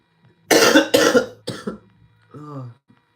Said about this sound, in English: I was really fighting the cough, but I couldn't do it.